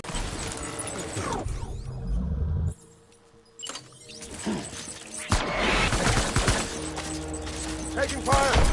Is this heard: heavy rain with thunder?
no